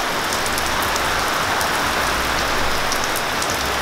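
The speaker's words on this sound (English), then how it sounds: "We got some rain." Steady rain falls outdoors, a dense, even hiss of drops on surfaces that continues unbroken with no voices.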